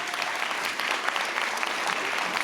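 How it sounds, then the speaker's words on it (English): At a community conversation hosted by a first deputy mayor, the audience breaks into dense, sustained applause, an even crackle of many hands clapping with no speech over it. "Let's give them a round of applause"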